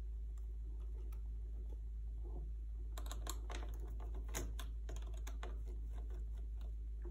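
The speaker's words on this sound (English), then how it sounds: "So now we have to remove these screws right here that secure the keyboard." Plastic clicks and small taps come from pulling the keyboard off an HP DV6 laptop and removing its retaining screws, a scattered run of faint close handling sounds over a steady low hum.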